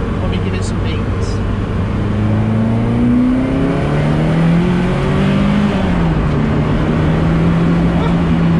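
A Ferrari F40 accelerates hard in second gear, its engine droning low and loud with a pitch that climbs steadily, drops briefly, then rises again beneath strong wind and road noise inside the cabin.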